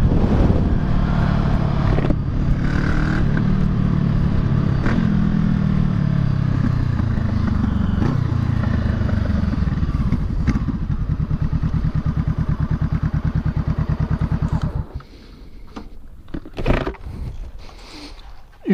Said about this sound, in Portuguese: Foguetinha essa moto.